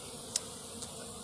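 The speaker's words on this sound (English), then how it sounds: "So there's a ton of bees on there" A soft, continuous buzz of forest bees hums in the background, punctuated by two brief sharp ticks.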